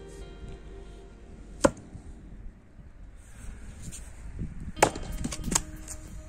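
Two or three sharp, loud axe strikes from a Fiskars X27 splitting axe biting into wood, spaced seconds apart, with faint outdoor background between blows and no talking.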